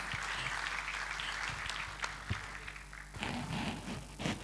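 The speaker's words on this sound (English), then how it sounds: "Can we have a round of applause?" An audience at a formal industry gathering applauds to welcome a guest speaker, a dense, sustained wash of clapping at moderate distance with a few sharper claps near the end.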